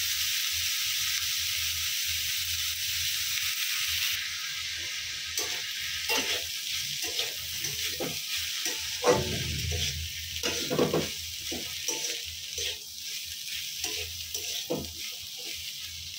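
Bitter gourd slices fry slowly in a pan with little oil and no spices, giving a steady close sizzle broken by repeated stirring scrapes throughout, with no talk.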